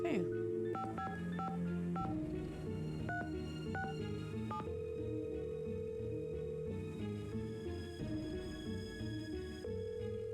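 Telephone keypad beeps in a Nancy Drew mystery game, a series of distinct dialing tones at an uneven pace over a steady background music bed, followed by a longer ringing tone.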